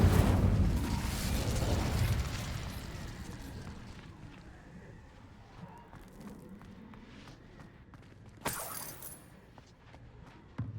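An Incendio fire spell cast in Hogwarts Legacy gives a loud whooshing burst at the start that fades over a few seconds. Quieter footstep-like clicks follow, then a brief bright crackle near the end.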